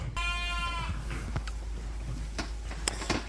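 A sheep bleats once, fairly close, inside a sheepfold where ewes are penned apart. Faint knocks and rustles follow in the quiet barn over a low hum.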